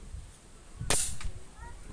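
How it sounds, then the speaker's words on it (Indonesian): An air rifle fires a 13-grain slug in strong wind outdoors, giving one sharp, loud crack with a brief fading tail against gusty rumble. "tembakan keenam"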